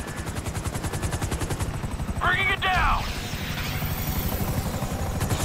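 FIB helicopters in GTA 5 thump with steady rotor chop throughout, joined by a burst of gunfire and a shouted line over the continuous roar.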